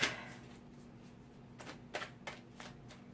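Tarot cards being shuffled and drawn, several soft papery riffles and slaps spaced out over a few seconds, close but quiet against faint room hum.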